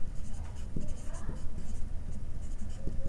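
A pen or pencil scratches out a sixth-grade math solution on paper, with quick, irregular strokes and taps close by, while a voice talks quietly in the background.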